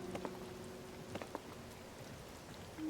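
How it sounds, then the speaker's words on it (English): Steady rainfall in The Legend of Zelda: Tears of the Kingdom, a soft continuous patter with scattered faint droplet ticks at low volume. "It is raining"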